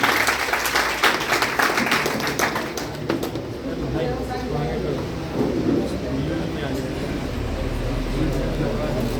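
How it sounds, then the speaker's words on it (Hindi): Applause from an audience at a memorial gathering for freedom fighter DN Singh, a steady broadband clatter lasting throughout, with birds cooing and chirping in the background. "जोरदार तालियों से एक बार अभिनंदन करें।"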